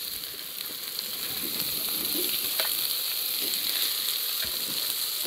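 Bacon and calabresa sausage frying in a pan for a country-style paella, a steady close sizzle and hiss with occasional crackles and pops, no speech.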